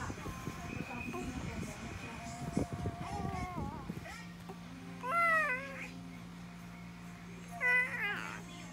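A cat meows twice in short, wavering calls after a stretch of background chatter and clatter; a low steady hum runs underneath.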